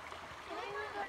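Creek water runs and splashes in a steady broadband wash, close and fairly even, while a voice is faintly present.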